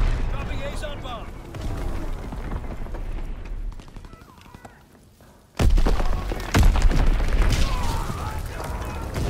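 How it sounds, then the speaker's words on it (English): Enemy artillery shells landing in Call of Duty WWII, deep booming impacts that crash in suddenly after a quieter lull and keep rumbling loudly, with voice callouts heard amid the barrage. "Incoming enemy artillery."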